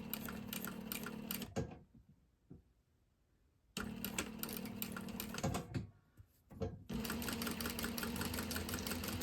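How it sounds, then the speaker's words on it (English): A sewing machine stitches fabric in fast, rapid-clicking runs, stopping twice with short pauses before running steadily again, close and clear with no talking. "And I'm going to sew a few stitches. And then I just want to back up a few stitches as well."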